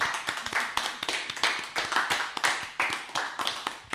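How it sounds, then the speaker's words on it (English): A small studio group on the Anti Battalion radio show claps for guest Pastor Femi of City of Light Ministries, distinct close handclaps in a quick uneven rhythm, several people, no talk. "Please give him a round of applause."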